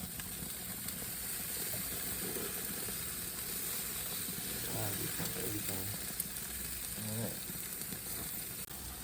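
Lobster tails dressed with lime juice sizzle on a BBQ grill fitted with a draft blower, a constant close hiss and crackle, with a faint voice briefly murmuring partway through.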